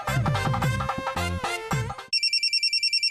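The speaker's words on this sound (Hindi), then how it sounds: "देखो किसका फोन है।" A telephone ringtone chirps in a rapid, regular electronic pulse right after a burst of music or voices cuts off, loud and close, repeating evenly to the end.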